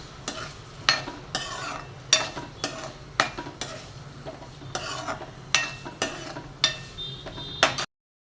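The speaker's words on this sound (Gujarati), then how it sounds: "જો અહીંયા મેં પનીર પહેલાં ફ્રાય કરવા રાખી દીધું છે." Paneer fries in a pan with a soft sizzle beneath repeated sharp spatula strokes that scrape and tap at an uneven, steady pace until the sound cuts off abruptly.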